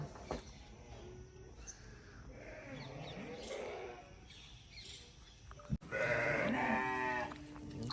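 A sheep lets out a loud, wavering bleat near the end, after a stretch of quieter farmyard sounds and some voices talking.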